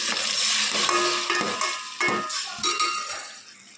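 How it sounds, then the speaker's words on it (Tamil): Onion, green chilli, garlic and ground tomato sauté in a pan for fish curry. The frying sizzles loudly while a spoon scrapes and stirs in several sharp strokes, and the sizzle gradually fades toward the end. "அதோட பச்சை வாசனை போகிற அளவுக்கு வதக்கிக்கலாம்"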